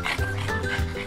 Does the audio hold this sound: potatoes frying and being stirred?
no